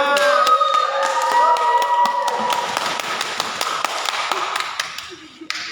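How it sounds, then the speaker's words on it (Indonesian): A few people clap for a speaker at a gathering in an orphanage in Bali, a run of sharp, scattered hand claps over fading tonal sound, thinning out toward the end. "Kita berikan tepuk tangan buat Minya"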